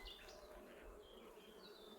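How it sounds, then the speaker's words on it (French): A honeybee buzzes close to the beekeeper's chin at an open garden hive in mid-April, a steady, near insect drone with shifting pitch filling the whole moment, with no talking. "il y a une abeille là, qui me cherche au niveau du menton. Elle n'est pas contente."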